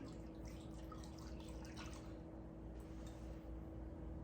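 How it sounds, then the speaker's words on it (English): Faint pouring and splashing of milk, a soft trickle into a dish over a low background hum, quiet and close. "You're gonna take a cup of milk, pour right on top."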